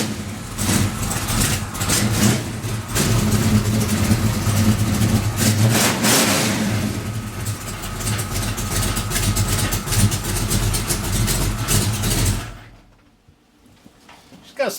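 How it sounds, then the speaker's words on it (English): A car with a freshly built engine carrying a mild cam runs loud and close, rumbling and revving at idle with a steady low throb for about twelve seconds before it shuts off into near silence. "I'll start it so we can do a sound comparison after the new engine's in"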